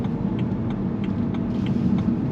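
A BMW 335i E93 LCI convertible engine and exhaust at residential low speed, a steady deep rumble with a mild mechanical hum, heard from inside the car without talk.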